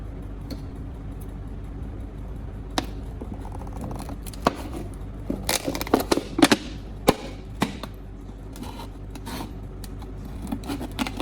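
Scissors cutting through a plastic bottle, a series of sharp close snips and crunchy plastic crackles spaced irregularly over a quiet background.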